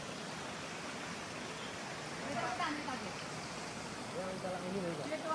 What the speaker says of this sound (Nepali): यहाँनिर पानी लास्टै परिरहेछ